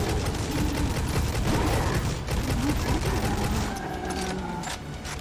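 Gunfire in the shooter Necromunda: Hired Gun, rapid bursts of shots mixed with mechanical clatter that thin out toward the end, where a faint whining tone appears.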